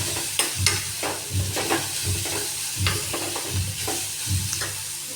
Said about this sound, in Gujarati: અને ચમચા વડે મિક્સ કરી લઈશું.